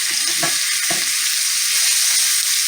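Homegrown sausage fries in a pan turned down to medium low, giving a loud, steady hiss of sizzling fat with a couple of short, low stirring bumps near the start.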